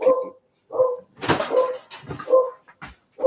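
A dog barks loudly and close up in a series of sharp, separated bow-wow barks, some ending in yips. The barks are spaced irregularly with short pauses between them.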